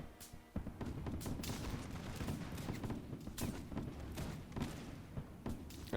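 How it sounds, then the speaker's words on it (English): Musketeers fire a ragged volley in the video game L'aigle, with many sharp, overlapping shots crackling continuously over a dense, rumbling battle din for several seconds. "I will give the order to fire at will."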